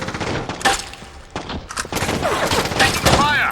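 Bursts of gunfire in the tactical shooter Rainbow Six 3: Black Arrow, with repeated loud rifle volleys and scattered single shots overlapping, while radio-style voices call out under the shooting.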